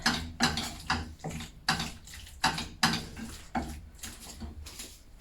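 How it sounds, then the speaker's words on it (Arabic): A spoon stirs flour into a sauce in a metal pot, producing a series of irregular scraping and clanking strokes, close and fairly loud, about ten in five seconds, with no talking. "غنخلط هادشي مزيان"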